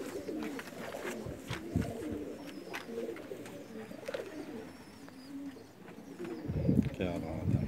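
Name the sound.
pigeon cooing, a shy pigeon and its female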